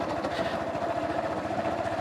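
A Yamaha YTX 125 motorcycle labours in fourth gear at low speed, its engine knocking with a steady, rapid low thumping that runs continuously and fairly loud with no talk over it.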